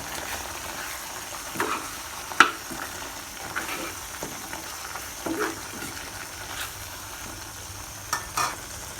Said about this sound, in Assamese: গোটেইখিনি দি পেলাই 2 মিনিটমান এনেকৈ লাৰি পেলাই সিজাম